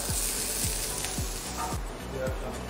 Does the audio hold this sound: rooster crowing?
no